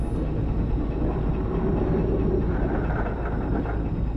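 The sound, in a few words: tram in video game Resident Evil 2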